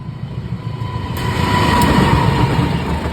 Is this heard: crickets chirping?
no